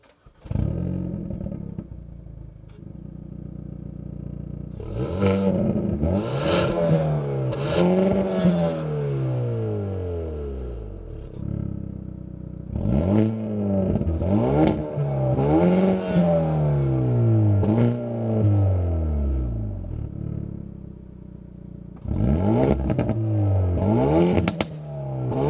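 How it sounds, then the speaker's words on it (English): A 2019 Hyundai Veloster N hot hatch exhaust revs hard in several bursts, the engine climbing and falling in pitch with crackles and pops between the pulls, loud and close. "How different are the three exhaust modes?"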